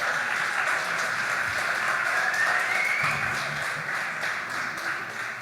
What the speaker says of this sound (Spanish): Un aplauso para Gael, que fue el capitán ganador